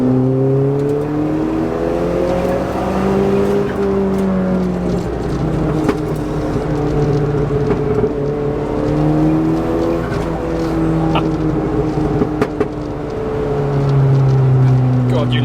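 A Nissan Pulsar GTI-R Nismo hot hatch accelerates hard, its engine note climbing and dropping through gear changes, loud and close throughout with voices talking over it.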